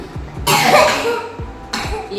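Two sharp coughs, close and loud, the second following about a second after the first.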